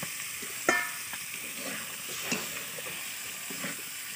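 Chicken and potatoes sautéing in spice masala in a pan, a low steady sizzle with a sharp clack of a spoon early on and softer scraping stirs later, close and without talk.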